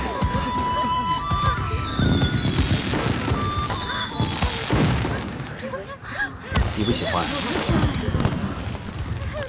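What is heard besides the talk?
fireworks exploding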